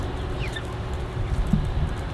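Meat chickens clucking softly inside a floorless chicken tractor out on pasture, their low, scattered clucks set against a steady outdoor background hum.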